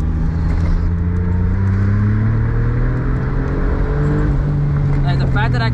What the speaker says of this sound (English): Let me give it a second gear pull over here.